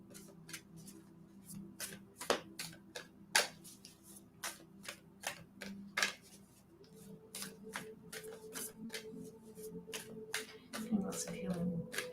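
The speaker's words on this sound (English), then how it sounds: "Sonia, tell me when to stop shuffling." Tarot cards are shuffled by hand in a steady run of sharp, evenly spaced riffling snaps, close and crisp, while a voice hums and talks quietly underneath.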